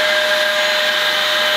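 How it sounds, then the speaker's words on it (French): A vacuum cleaner runs at full power on a floor inside a caravan, giving a loud, steady whine and airy roar that holds unchanged from start to finish with no pauses. "C'est magique, un aspirateur qui aspire."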